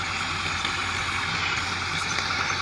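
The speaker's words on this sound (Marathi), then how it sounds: "आपलं ट्रॅक्टर सध्या लोडिंगवर आलं आहे." A John Deere 5310 tractor's engine runs steadily at close range during sand loading, a continuous low diesel drone with no speech.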